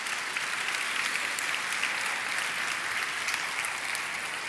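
A church congregation applauds during an evening service, a loud, sustained, even roar of many hands clapping that continues unbroken.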